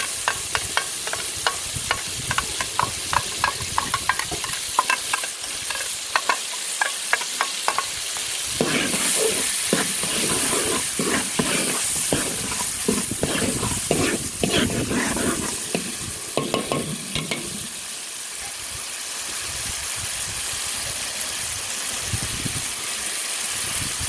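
Tomato and sugar cooking in a pan for ayam masak merah, a steady sizzle with repeated scraping and stirring strokes that grows denser midway, with no voices.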